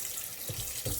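Cold water runs from a kitchen sink faucet in a steady close splashing stream, with a couple of slightly heavier gushes.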